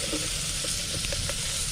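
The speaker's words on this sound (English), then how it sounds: "All right, so we got that initial bit of fat in there sauteing" Initial bit of fat sautéing in a pan for a stew: a soft, continuous sizzle and hiss close by, with faint pops scattered through it.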